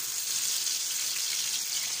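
Blended spice paste sizzling in hot oil for fried chicken, a steady bright hiss of frying that holds evenly at moderate volume with no talking.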